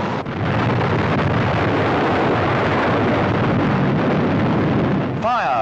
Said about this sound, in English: Fire followed the explosion.